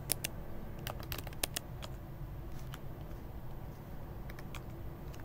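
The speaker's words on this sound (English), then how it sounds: "we go inside the project by typing cd and type the name" Computer keyboard keys clatter as a terminal command is typed during a Next.js and Firebase project setup. The keystrokes are quick, irregular and fairly close, with no voices over them.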